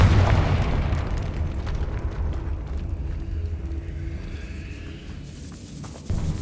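A Confringo spell explodes in the Hogwarts Legacy video game, a deep heavy boom at the start that rumbles and slowly fades, followed by a faint thump near the end.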